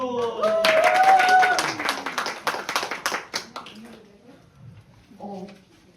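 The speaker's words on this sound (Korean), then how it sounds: "박수!" An audience at a church teachers' seminar bursts into applause, a dense round of clapping that builds for about three seconds and then thins into scattered claps, with a speaking voice heard over it at the start.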